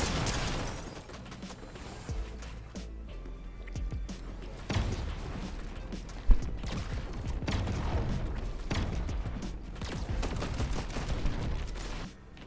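Assault rifle fire in a competitive shooter game, probably Fortnite: rapid bursts and scattered single shots rattle throughout amid building and movement noise, with one sharp louder crack midway and no talk.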